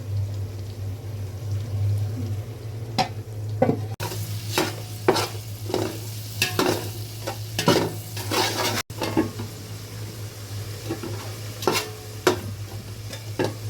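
Shrimp are stir-fried and sizzle in a pan. A spatula stirs and scrapes in repeated strokes over a low, steady frying hiss, fairly close and moderately loud.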